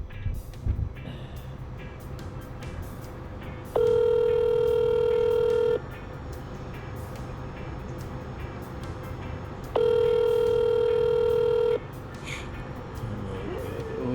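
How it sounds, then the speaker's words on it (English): A phone call rings out twice as a steady, loud electronic tone, each burst lasting about two seconds with a pause between, over faint background room noise. "Try ringing her again."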